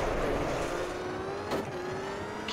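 Rally car engine in Richard Burns Rally held at steady revs with a slowly rising whine while the brake is dragged on throttle, loud and continuous with one brief sharper burst midway, no talk.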